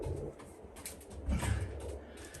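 Soft, low pigeon coos rise and fall over a steady murmur of background noise, growing slightly louder midway through.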